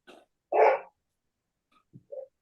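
A single dog gives one loud, close bark during a quiet board meeting, with a few faint, brief sounds before and after.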